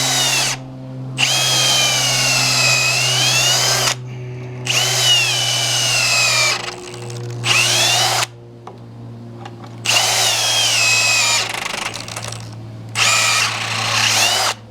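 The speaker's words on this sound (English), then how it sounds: "these new drills ain't worth poop." A hand-held power drill whines in loud bursts of a few seconds each, revving up and down between short pauses, while drilling in a workshop during a sawmill blade mount build.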